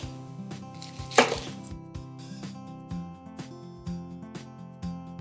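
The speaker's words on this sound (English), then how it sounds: "I'm just going to give it a rough chop to give it a head start in the mixer" A kitchen knife roughly chops green chilies on a board. The chops are sharp and land about once a second, with one louder cut near the start. Quiet background music plays underneath.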